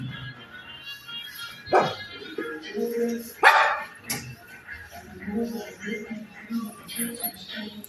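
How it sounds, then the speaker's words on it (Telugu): A dog barks a few times at moderate distance, scattered sharp yelps over background chatter and household noise. "అక్కడ కుక్కలు ఉన్నాయి, అరుస్తుంది అని"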